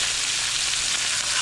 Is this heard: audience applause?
no